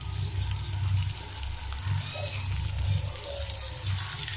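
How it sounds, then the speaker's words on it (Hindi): Cheese rice pakoras frying in hot oil: a steady, close sizzling and crackling hiss runs continuously under a low kitchen rumble, with no talking. "देखें हमने हाथ से इसको गोल गोल से थोड़ी थोड़ी शेप दे दी और इसको अपने गरम ऑयल में डाल के"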